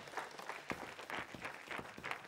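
Studio audience at a televised Russian lotto draw applauds the players of the second round, steady mid-level clapping from a crowd throughout, with a few sharper claps standing out.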